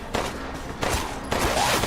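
Gunfire in a Resident Evil game, several loud sharp bursts of shots in quick succession with a ringing tail between them.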